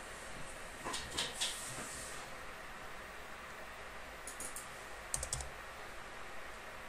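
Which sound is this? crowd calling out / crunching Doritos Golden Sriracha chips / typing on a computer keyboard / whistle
typing on a computer keyboard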